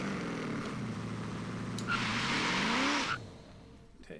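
A tuned quarter-mile drag car launches in first gear, its engine roaring steadily as the rear wheels spin, with a brighter surge of tire noise before the sound drops away near the end.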